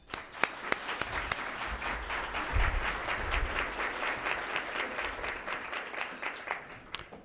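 Steady applause from a seated conference audience welcoming a panel, sustained and fairly dense for several seconds with a slight swell midway, heard from within the room.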